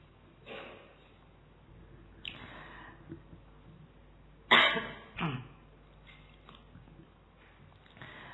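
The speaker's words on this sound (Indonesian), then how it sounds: "Batuk. Ayo lomba batuk." Several dry coughs come in scattered bursts, one louder pair in the middle, with quiet gaps of room noise between them.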